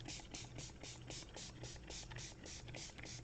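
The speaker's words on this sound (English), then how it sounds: "I'm spraying the whole thing because I'm going to mop up with it" A spray bottle puffs blue craft colour in a quick, even run of about a dozen short hissing bursts, close and steady, with no voice over it.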